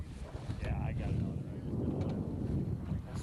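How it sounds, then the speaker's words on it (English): Wind gusts buffet the microphone out on the ice while ice fishing in windy, wavy conditions, a constant low roar with a faint voice briefly audible beneath it. "It's pretty windy and wavy out here."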